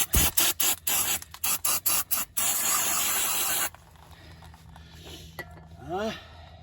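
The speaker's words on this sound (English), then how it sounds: "Clean it out with brake cleaner." Short bursts of brake cleaner aerosol spray hiss in quick succession while cleaning brake parts on a classic Mercedes W126, then one long continuous spray that cuts off, followed by quieter rustling and a brief squeak.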